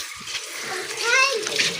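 A tap running slowly, a thin trickle of water with a faint splashy hiss, heard alongside a voice and household talk.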